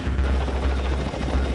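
A military helicopter during an amphibious assault from the sea, its rotor and engine roaring loudly and steadily with a deep low rumble throughout, with no voices present.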